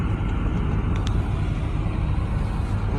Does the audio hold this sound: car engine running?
yes